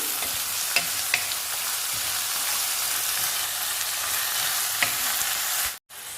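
Ginger, curry leaves and chopped vegetables frying in a pan for egg rice, a steady bright sizzle with a few stirring clicks, loud and close, ending in a brief cut.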